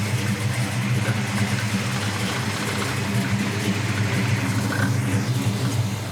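The 454 big-block V8 of a 1970 Chevrolet Chevelle SS, with a performance cam and MSD ignition, idles steadily with a deep, throaty, low rumbling pulse, close by and loud, with no talking over it.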